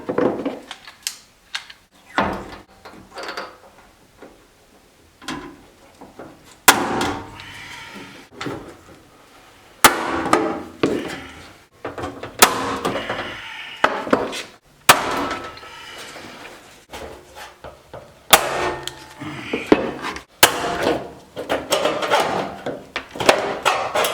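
Rivets being redone on the heat shields of a Dodge Viper exhaust, heard as a series of sharp, irregular metallic pops and clunks with quiet gaps in between, close by and not under talk.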